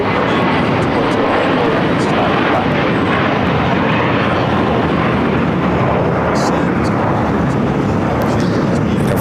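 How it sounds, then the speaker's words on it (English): Japan Airlines airliner taxiing and taking off from runway 25 Right on the south side of LAX, a steady loud broadband jet engine roar that holds throughout with no clear break, with talk faintly mixed in. "The flight to Boston now taking off here on the south side."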